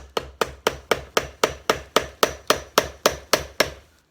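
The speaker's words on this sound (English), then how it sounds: "Right now, I'm just going to take a chisel and see the line," A chisel is struck repeatedly along the seam of a mold to split it apart, a fast steady series of about fifteen loud, sharp taps, close and evenly spaced with no talking.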